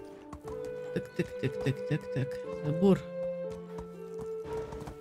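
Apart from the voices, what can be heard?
horse galloping in video game Medieval Dynasty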